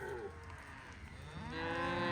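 Cattle on a farm moo nearby, one long low lowing call that swells louder toward the end, heard alone with no talking.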